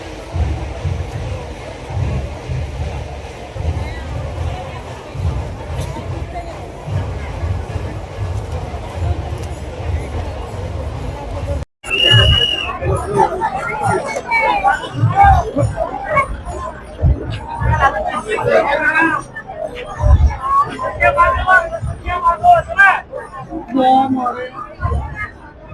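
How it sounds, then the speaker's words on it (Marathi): Dense crowd of devotees on the Wari return procession of Tukaram from Pimpri to Nigdi, a steady murmuring hubbub with low rumble throughout, briefly cut near the middle, then busier overlapping voices close by. "खूपच गर्दी या ठिकाणी."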